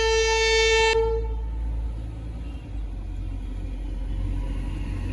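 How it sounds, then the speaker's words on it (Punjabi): A train horn blasts for about a second, then a heavy, steady rail rumble continues as the train rolls past nearby at a railway level crossing in the rain. "ਇੱਕ ਤਾਂ ਟ੍ਰੇਨ ਆਈ ਜਾਂਦੀ ਆ ਵਾਰ-ਵਾਰ"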